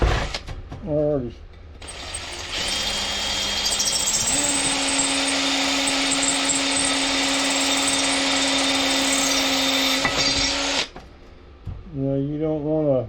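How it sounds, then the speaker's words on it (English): Power drill bores into a glass whiskey bottle being made into a lamp, a loud steady whine holding for about nine seconds with a pitch step early on, then stopping. "I'm gonna drill this out here."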